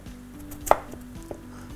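A knife slices potatoes on a cutting board while preparing tas kebabı, with one sharp chop standing out among quieter, evenly spaced cuts, close and clear with no talk.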